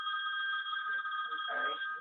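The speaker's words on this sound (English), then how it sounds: "I'm sorry. That's my phone." A mobile phone rings with a steady electronic tone that sounds continuously, loud and close, while a voice briefly murmurs underneath toward the end.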